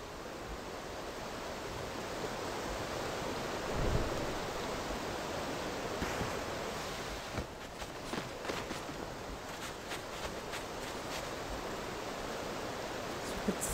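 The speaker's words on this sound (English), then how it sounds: "let's check out below the waterfall" A waterfall in the video game Sky: Children of the Light rushes in a steady broadband roar, with soft footstep-like taps and small clicks over the later part and no talking.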